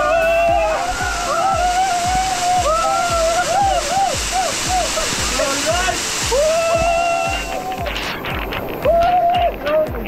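Piduan Falls, a waterfall with crystal-clear water, roars in a steady, loud rush close by, with a voice calling out over it and splashing bursts toward the end.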